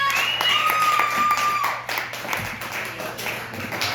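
Audience applause for a stand-up comedian at a comedy club, a steady wash of clapping that runs throughout and thins slightly partway through.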